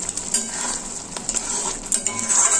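Spiced masala paste sizzling in oil in a pan, fried down until the oil separates, with a steady close frying hiss and occasional scraping stirs of a spoon.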